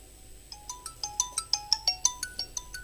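A repeating phone ringtone melody plays from the repaired speaker of a Poco C51 smartphone, a bright sequence of rapid electronic beeps in steady rhythm, clear and close with no talking.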